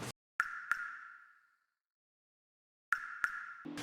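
A subtle water drop effect plays in a beat, two quick bright plinks with a short ringing tail, then silence, then the pair repeats with another soft hit at the end.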